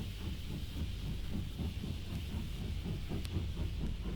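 A steam train engine rumbles along the line in a 1960 radio-drama staging of The Wind in the Willows, a steady low roar with faint rhythmic chuffing and a hissing wash over it, continuous and fairly close, with no voices.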